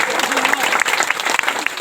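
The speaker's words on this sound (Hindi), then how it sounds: "ताली खड़का जोर से ताली खड़का और जोर से खड़का" A crowd at a Sarna community gathering in Lohardaga claps loudly, dense, uneven applause with sharp individual claps, while a voice talks over it.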